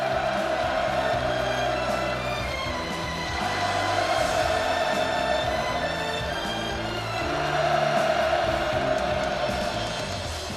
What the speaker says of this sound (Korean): 하늘 땅을 침감하는 열공의 환호성이 터져